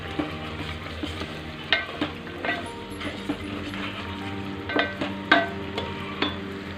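Masala for chicken curry frying in a pan, with a steady sizzle broken by repeated scraping stirs of a spoon against the metal, close and fairly loud, with no talk.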